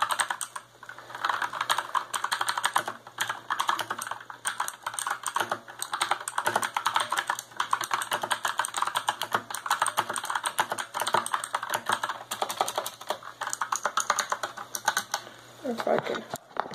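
Steady rapid clacking of a tenkeyless (TKL) mechanical keyboard, dense fast keystrokes close up, continuing without pause.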